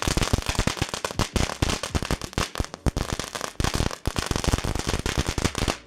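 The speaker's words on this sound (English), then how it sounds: "These are basically like legal firecrackers." Rapid, dense pops from novelty whip firecrackers crackle continuously, loud and close, a rattling string of sharp bangs with brief gaps.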